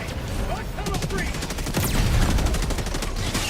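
Rapid bursts of gunfire from an autocannon and other weapons rattle in a Helldivers 2 firefight, dense repeated shots over a low rumble, with a voice talking in the background.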